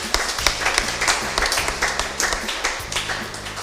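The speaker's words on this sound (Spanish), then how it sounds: "Un fuerte aplauso para ellos" A church congregation gives a brief round of applause, with dense rhythmic clapping over a low background tone.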